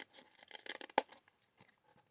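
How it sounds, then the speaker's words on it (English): Scissors cut through sticky sheets in a soft, brief snipping and rubbing sequence with one sharp click, quiet and without talk. "6 sheets of this stuff, which you can cut down with scissors"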